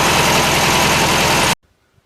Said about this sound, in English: it just doesn't idle smooth enough for me to do anything productive by adjusting the carburetor